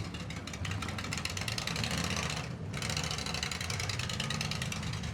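A demolition derby car engine runs rough and steady at a distance, a continuous mechanical whir and rattle under crowd noise, sounding like an old tractor.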